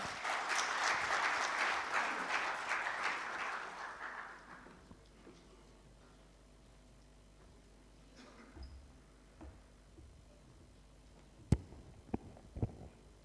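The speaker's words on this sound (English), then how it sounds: "With a huge round of applause, please welcome Ms." An audience applauds to welcome someone speaker onto the stage at an evening celebration, loud and dense clapping that fades out after about four seconds, followed by quiet room noise with a few sharp knocks.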